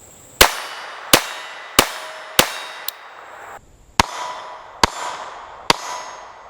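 A Tanfoglio GT 27 .25 ACP Italian pocket pistol fires CCI Blazer aluminum-case rounds: eight sharp, close shots in a steady rhythm about two-thirds of a second apart, each a loud crack with a brief ringing tail.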